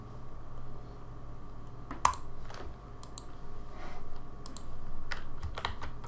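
Rapid keyboard typing on a computer keyboard while entering code, a series of sharp clicks, some bunched into quick bursts, over a low steady hum, fairly close and with no talking.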